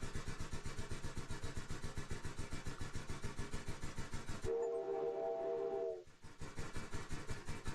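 A steam locomotive in a steam engine simulator game chuffs in fast, regular beats, then a loud steady whistle blows for about a second and a half before the rhythmic chuffing resumes.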